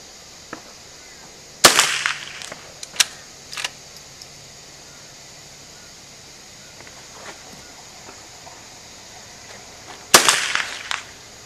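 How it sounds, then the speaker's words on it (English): Gunshots from target shooting ring out as two sharp, loud cracks several seconds apart, with a few fainter knocks between them. "See, I only got two shots out."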